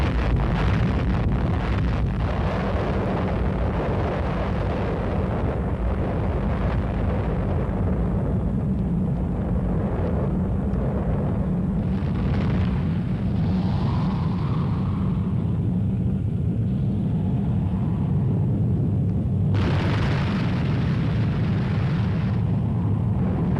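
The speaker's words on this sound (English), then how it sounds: "men who have experienced their first atomic explosion" An atomic bomb explodes at a military test site, heard as a long, loud, deep roaring rumble with heavy wind buffeting that builds and swells without a break for over twenty seconds.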